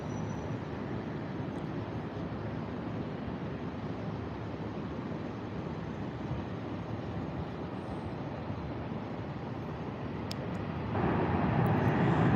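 A Southwest airliner comes in to land at Tampa airport, a steady, moderately distant jet rumble that grows louder and fuller near the end.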